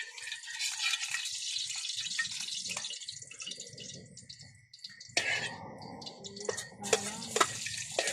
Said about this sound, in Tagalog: Ngayon naman ako yung magagisa na.